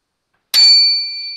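A small metal bell containing iron or steel strikes a magnet once, giving a single sharp, close clink that rings on briefly with a clear, fading tone.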